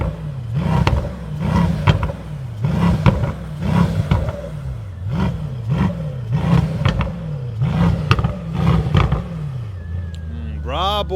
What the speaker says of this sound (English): So now it's time to be listening to the sound of the Brabus Rocket 1000 from the outside.